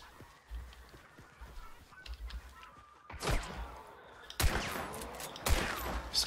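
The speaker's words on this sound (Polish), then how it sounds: "Skubaniec strzela do mnie" Enemy gunfire in Hunt: Showdown, with a few sharp, loud shots cracking out in the second half, spaced about a second apart, over a low rumbling game ambience.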